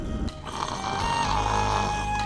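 A person snoring, heard as one long, loud, rasping snore with a low rumbling drone that holds steady for about two seconds.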